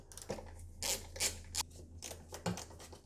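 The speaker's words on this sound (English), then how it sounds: "with the E10, you have to undo these two bolts which holds the air filter box in position." A socket tool working the bolts of an air filter box on a Mercedes W169 A-Class 150, a series of close, quiet ratcheting scrapes and rubs coming in short uneven bursts.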